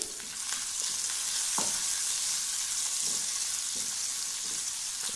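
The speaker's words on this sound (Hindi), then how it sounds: "अब मैं इसमें मीडियम साइज़ का का प्याज डाल दूंगी और प्याज डाल के बिल्कुल अच्छे से अब हम क्या करेंगे प्याज को अच्छे से लाल कर लेंगे" Medium-sized onions frying in oil with fennel seeds, a dense, even sizzle from start to finish, with a few soft spatula scrapes and knocks underneath and no speech.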